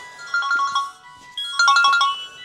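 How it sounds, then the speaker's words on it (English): A melodic phone ringtone plays twice in quick succession, a short bright pattern of electronic notes, fairly close and clear. "I best get this phone, Anna."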